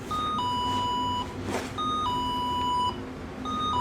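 A two-tone electronic chime repeats three times in a steady pattern, high then lower, over a low background hum.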